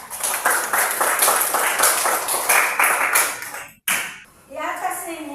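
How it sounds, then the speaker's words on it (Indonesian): Schoolchildren in a classroom clap for a student in quick rhythmic bursts that stop abruptly, followed by a brief lull and then voices. "Tepuk tangan sama si Zea."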